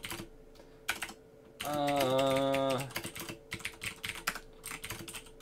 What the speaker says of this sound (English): I'm typing what I just said to you.